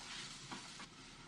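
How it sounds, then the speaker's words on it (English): Onions and garlic sizzle in a hot pan at medium-high heat, a steady, hissing crackle that stays at a soft, even level with no voices. "I love that sizzle"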